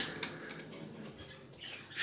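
Short, scratchy parrot squawks, one near the start and another rising call near the end, over a quiet background.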